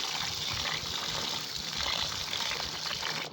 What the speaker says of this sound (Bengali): এখন চালটাকে ভালো করে ধুয়ে নিচ্ছি